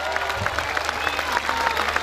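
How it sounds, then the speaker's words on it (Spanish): Audience applause at a humor segment during the Guavirá Poty 2020 festival, a steady wash of clapping with some crowd noise, sustained and fairly loud throughout. "Fuerte los aplausos para el momento especial del humor."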